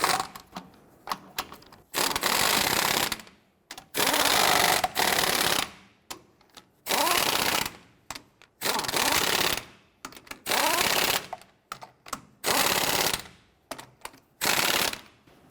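Lug nuts on a Nissan Frontier wheel are run down with a power tool in repeated loud mechanical rattling bursts of one to two seconds, separated by short pauses.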